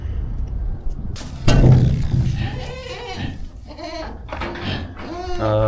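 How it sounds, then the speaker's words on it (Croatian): Goats bleat up close on a farm as they are fed corn, several loud wavering calls overlapping across the clip, with some rustling and a brief voice in between. "Došao sam malo da dam kukuruz kozama"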